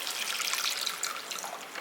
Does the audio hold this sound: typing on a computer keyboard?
no